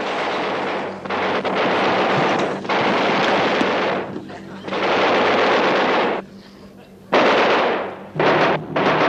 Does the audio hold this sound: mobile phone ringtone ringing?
no